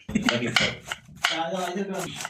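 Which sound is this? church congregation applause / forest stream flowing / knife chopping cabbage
knife chopping cabbage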